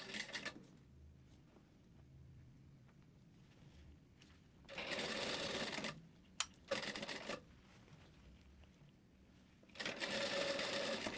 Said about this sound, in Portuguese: vai abaixar o calcador e vai continuar costurando